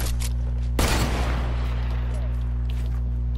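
A gunshot in a one-on-one shooter video game match: a single sharp blast followed by a decaying rumble, set over a steady low electronic hum.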